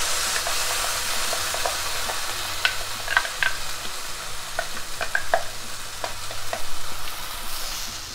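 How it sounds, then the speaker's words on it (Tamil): Green chilies sautéing in oil in a kadai, a steady bright sizzle and hiss throughout with occasional scrapes and stirring clicks, close and unbroken. "லைட்டாக பச்சை வாசம் போகிற வரைக்கும் இந்த பச்சை மிளகாயை வதக்கிக்கலாம்."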